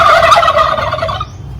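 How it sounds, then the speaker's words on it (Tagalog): Turkeys on a farm give a loud, close, rapid bubbling gobble chorus that fades slightly at the end. "Ang pabo. Pag may bagong tao talaga dito, nag-iingay po yan sila."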